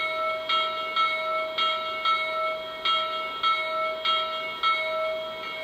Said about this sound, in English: Very nice, simple, clean bell.